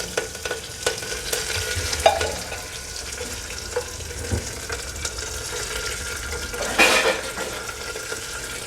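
Mustard seeds crackling and sizzling in hot oil for pepper rasam, with scattered pops over a steady frying hiss and a louder burst of spatter near the end.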